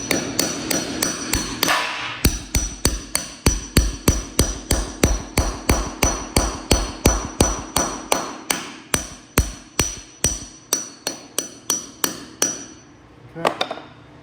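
A hammer drives an anchor bolt into concrete while a two-post car lift is installed, giving a long, steady run of loud, evenly spaced metallic strikes close up before they stop.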